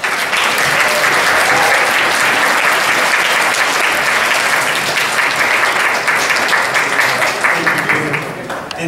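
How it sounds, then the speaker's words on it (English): An audience at a gala gives a warm round of applause to welcome a speaker, a dense, loud, sustained wash of clapping that tapers slightly near the end. "So a warm round of applause for Don Howard."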